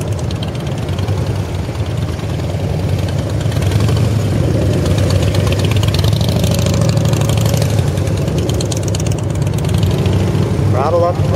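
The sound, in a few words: engine throttling up while slipping the clutch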